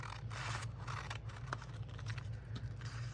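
Scissors snip through the top edge of a junk mail paper envelope in a quiet room, a few close, soft crisp cuts and scrapes spread across a couple of seconds.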